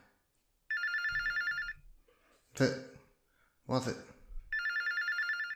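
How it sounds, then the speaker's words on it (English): Call center telephones ringing off the hook, loud electronic bell trills in repeated bursts that stop and start, with people talking in between. "Phones have been ringing off the hook all night."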